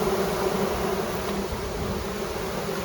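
Honeybees buzz steadily inside a hive box, a dense, continuous drone of many wings close at hand with no voices.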